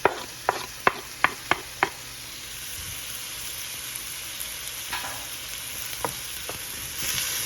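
Chopped green onion sizzles in a pot, starting with a series of sharp knocks from a utensil on the rim, then a steady close hiss of frying with occasional stirring clatter and no voices.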